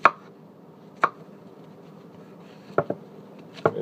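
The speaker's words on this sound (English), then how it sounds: "This is me chopping the mushroom." A knife chops a mushroom on a cutting board in four or five sharp, sparse taps, close by, with a quiet room in between.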